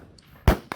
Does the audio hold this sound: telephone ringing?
no